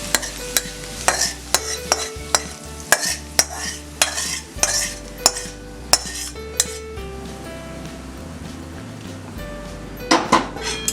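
A metal spoon scrapes and taps against a pan while stirring tempered poha, in a steady rhythm, with sharp clinks every second or so and a faint sizzle underneath.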